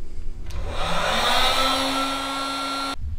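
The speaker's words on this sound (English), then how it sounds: "now we're going to warm up the tank with the heat gun and get it ready for the sealer" A heat gun blows a loud, steady, whirring roar close by while warming a rusty metal gas tank, starting abruptly and cutting off after about two and a half seconds.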